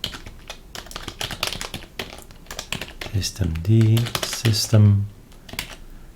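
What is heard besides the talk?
typing on a computer keyboard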